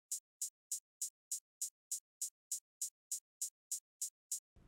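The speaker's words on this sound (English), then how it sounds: "It's just a little two-step hi-hat" A filtered two-step hi-hat drum sample ticks crisply in a steady, even rhythm, about fifteen bright, short hits in a row, then cuts to a low noise at the end.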